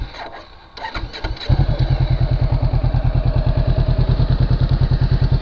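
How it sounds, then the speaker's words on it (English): A Honda CB500X motorcycle engine cranks with a few clattering attempts, then catches and settles into a steady, loud, rhythmic idle close by. "Let's start it up so you can hear the engine."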